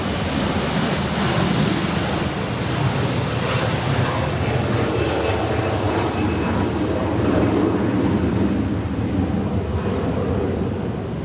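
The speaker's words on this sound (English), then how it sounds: "Qatar Cargo, Flight 8105 heading to Chicago O'Hare. The 777 getting ready for departure on 25 left" A Qatar Cargo Boeing 777 departs Los Angeles International Airport from runway 25 left, heard as a loud, broad, steady jet roar that stays constant throughout, with no speech.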